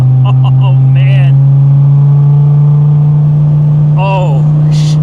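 A Dodge Viper fitted with a Belanger exhaust idles with a loud, deep, steady drone, with brief rising revs near the start and again toward the end.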